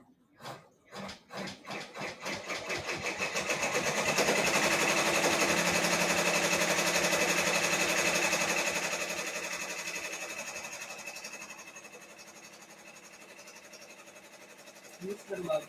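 An embroidery machine stitches a mug rug in the hoop with a rapid mechanical chatter. It starts in separate pulses, builds into a steady whirring run, then eases off, and light talk comes in at the end.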